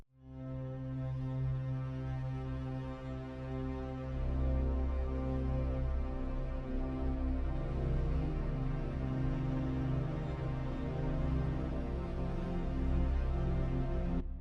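Sampled chamber strings playing a hazy, dreamy sustained chord patch, a thick continuous drone that swells slightly and holds steady, soft and alone without speech.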